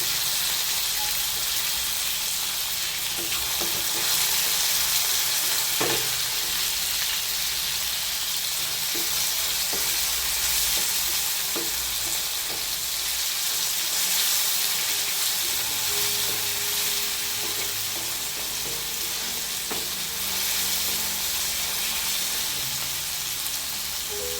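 Chopped tomato frying in a pan for an ivy gourd sabji, a dense steady sizzle and hiss held close for the whole stretch, with occasional stirring clicks and scrapes and no talk.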